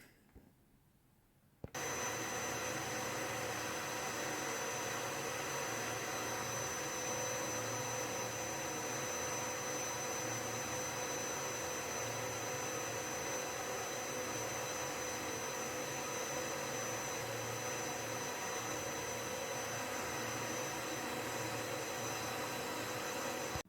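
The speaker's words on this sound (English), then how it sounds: "let's get the vacuum cleaner started again" After a brief quiet moment, a vacuum cleaner starts and drones continuously behind a soundproofed closed door, its steady whine and hum sounding muffled and distant.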